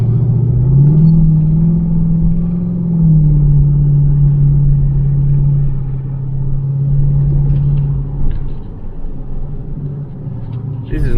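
A Jeep WJ driving slowly through town in low gear, its engine a steady close low rumble with a brief rise in pitch early on, then an even drone that fades slightly near the end.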